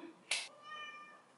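A cat meows once, loud and close, with a short bright cry followed by a softer drawn-out tonal tail, heard alone in a quiet indoor room.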